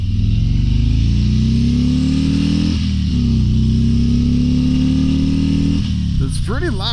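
A 2022 Harley-Davidson Tri Glide Ultra trike's engine is heard at full throttle: a loud, close, steady drone that climbs in pitch through the gears, with brief dips at shifts, over continuous wind rush.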